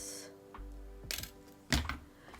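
Sharp snips of beading wire being cut for handmade holiday earrings, two crisp clicks about half a second apart, close up against a quiet room with a faint steady hum.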